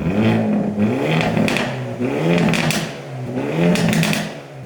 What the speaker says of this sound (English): Isn't that the best 4-cylinder exhaust note you've heard in a long, long time?